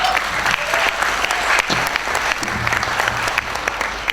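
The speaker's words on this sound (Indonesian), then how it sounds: "Tepuk tangan untuk anak-anak muda yang hadir di sini." A crowd applauds the young people attending a cultural gathering in Cairo marking the seventh Haul of Gus Dur. The clapping is loud, full and continuous, with a few louder knocks and thumps scattered through it.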